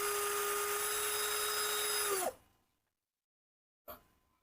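A modified 12V cordless drill runs at 450 RPM with a steady whirring whine, then spins down abruptly and falls silent, followed by one short burst as the trigger is briefly pulled again.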